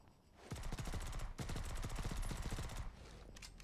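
Rapid bursts of in-game gunfire from the multiplayer shooter Modern Combat Versus, dense, loud and sustained, dropping slightly toward the end.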